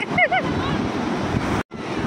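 Sea waves wash in at Kovalam beach with a broad, loud roar and gusty wind buffeting, a brief high call near the start and a sudden cut before the surf resumes.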